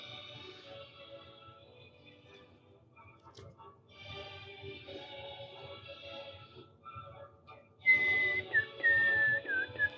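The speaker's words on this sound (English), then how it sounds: "sorry, I need to not whistle." A shrill, tuneful whistle carries a melody in short phrases, growing louder and sharper toward the end, while a quiet background hum and faint room noise sit underneath.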